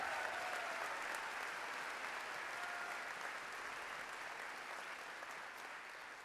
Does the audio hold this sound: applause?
yes